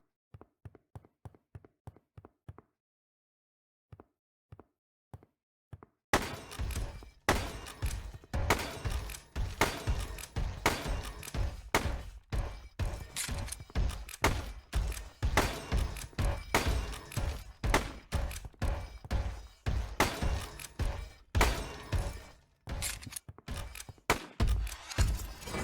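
Rapid gunshot-like hits in a Unity third-person shooter game test: a few quick taps, then a dense, steady stream of repeated thumping impacts for about twenty seconds, fairly faint overall.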